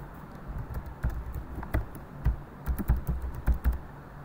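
Typing on a computer keyboard to enter a new database record: quiet, irregular key clicks and taps in quick bursts, with a few slightly louder strokes.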